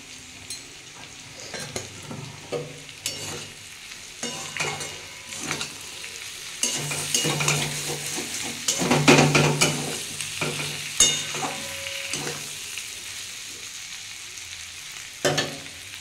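Dried red chillies frying in hot oil for a vegetarian potato, flat bean, capsicum and raw tomato fry. A steady sizzle runs underneath, with repeated clinks and scrapes from stirring that grow busier toward the middle.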